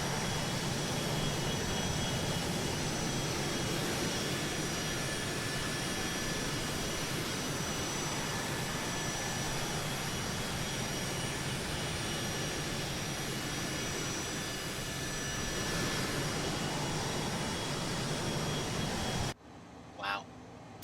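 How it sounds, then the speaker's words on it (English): Sustained roar of a jet aircraft engine heard from outside in a flight simulator, loud and steady with a broadband rumble throughout, cutting off abruptly near the end. "Wow, that engine sounds amazing."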